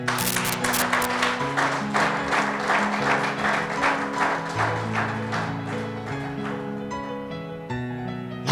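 A church congregation claps in steady rhythm along with sung music, loud repeated hand claps riding over sustained voices and tones that shift pitch throughout.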